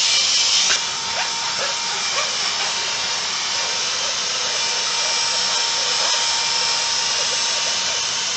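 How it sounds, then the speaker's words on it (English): A vacuum cleaner runs steadily on a floor, a loud, even high-pitched whine with a constant broadband rush and a few faint knocks, no talk over it. "Do a quick vacuum of the floor, otherwise they're gonna get everywhere."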